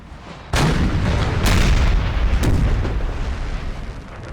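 Artillery volleys from cannons in the Napoleonic battle game Napoleon Total War: several loud, booming blasts, the first a sharp onset followed by two more heavy reports about a second apart, with a rumbling tail throughout and no talk.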